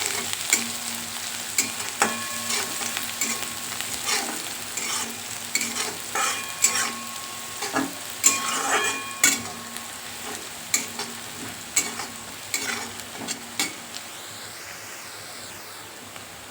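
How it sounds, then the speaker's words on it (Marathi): Bitter gourd peels fry and sizzle in a pan over medium heat while being stirred, with a steady hiss and scattered scraping clicks of the spoon against the pan. "याच्यात कारल्याच्या साली टाकलेल्या आहेत मी, आणि हे 2 मिनटं छान असं मिडियम गॅसवरती परतून घ्यायचं."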